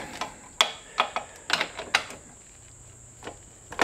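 A ratchet wrench loosens 13 mm bolts on an awning, giving a few short close clicking bursts with brief gaps.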